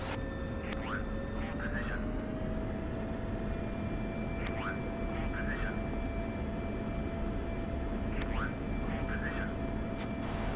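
Military aircraft engines running up for takeoff in a memorial flight formation, a steady heavy droning roar with a rising whine, while radio-style voices chirp intermittently over it.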